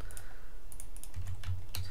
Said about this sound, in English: Oh, why am I typing in that?